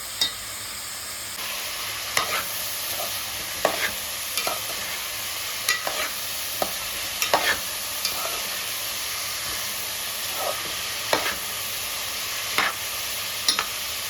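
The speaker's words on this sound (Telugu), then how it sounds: "చెంచాతో ఇలా నీట్‌గా కలుపుకోవాలనమాట" Onions fry in a pan and are stirred with a spoon until brown, giving a soft steady sizzle broken by repeated scraping taps of the spoon at an uneven rhythm, close and fairly quiet.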